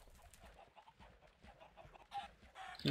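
Several chickens cluck together in a video game, a busy, fairly faint stream of overlapping clucks with no talk.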